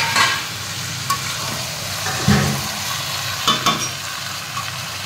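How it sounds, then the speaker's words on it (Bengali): Chicken stirred in a hot pan with chopped spring onion, a steady sizzle with scraping strokes of a spoon at irregular intervals, close and fairly loud, with no voices. "ভালো করে মিশিয়ে নিয়ে এবার ঢাকা দিয়ে দেবো।"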